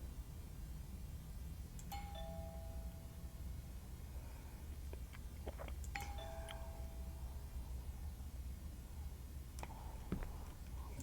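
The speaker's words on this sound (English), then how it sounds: "I should just ring the doorbell, see if he answers." A doorbell rings in the PC horror game Within, with two separate ding-dong chimes a few seconds apart over quiet background hum and faint clicks.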